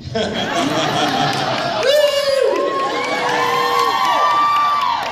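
A fan convention audience at a Charmed panel cheers and whoops, a loud crowd roar with rising shouts and some laughter, voices chattering through it.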